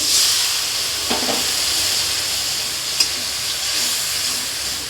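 Water poured onto frying spices in a pan for a jackfruit curry sets off a continuous broad hiss of steam and sizzle, with a couple of faint clinks, and no talking.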